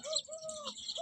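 A sparrow gives a quick run of bright chirps and tweets up close, lasting about a second against a quiet background.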